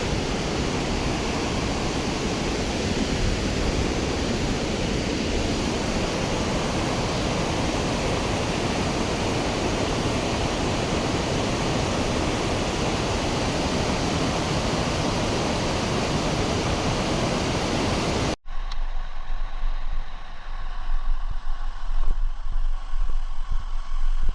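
Mallalli waterfall near Sakleshpura running heavy with water roars as a dense, steady wash of broadband noise, close and loud throughout, with a brief drop to a thinner, quieter rush near the end.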